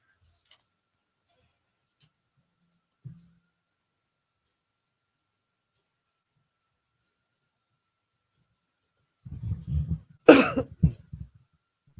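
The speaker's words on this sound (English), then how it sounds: "I'm just going to start coughing like a madman" A person coughs and clears their throat in a quiet room, one faint early rasp followed after a long silence by a close burst of several harsh coughs.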